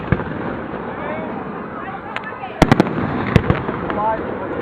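Fourth of July fireworks going off, with several sharp cracks and pops over a constant crowd murmur and a voice talking in the background.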